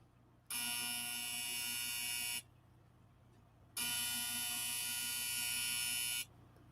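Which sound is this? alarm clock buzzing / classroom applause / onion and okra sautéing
alarm clock buzzing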